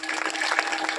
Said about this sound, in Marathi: एकदा टाळ्या वाजवा की.